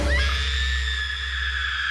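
A woman in a horror film lets out a long, sustained high-pitched scream that holds steady for nearly two seconds over a low rumbling backdrop.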